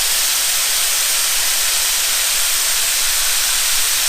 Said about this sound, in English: it's important that you get these things seared really nice